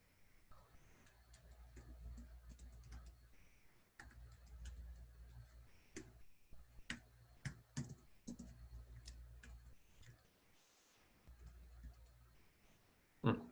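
Typing on a computer keyboard, irregular bursts of light close clicks and taps, quiet, with faint background hum and no talking over it.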